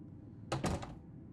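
A wooden door opens in the video game Oblivion: one brief, close wooden thunk with a short rattle, standing out against a quiet background.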